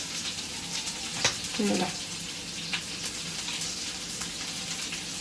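A bay leaf drops into hot oil in a pot, set to heat for prawn pulao, producing a faint, continuous sizzle with a few brief clinks and knocks close by.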